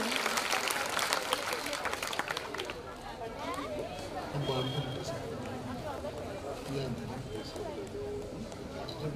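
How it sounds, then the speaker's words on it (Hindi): A crowd at a police press event applauds at the opening of the program, the clapping strongest at first and then thinning under overlapping chatter and voices. "एक बार जोरदार ताली बजाकर आप इस कार्यक्रम की शुरुआत करें"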